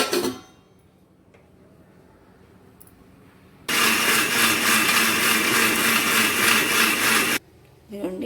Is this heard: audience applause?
no